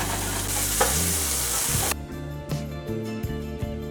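Chopped tomato frying in masala sizzles loudly in a hot pan, with stirring scrapes and spoon knocks rising as the steady hiss drops after a couple of seconds.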